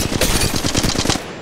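Rapid automatic gunfire from a weapon in Apex Legends Mobile, a loud close burst of about a dozen evenly spaced shots that stops short near the end.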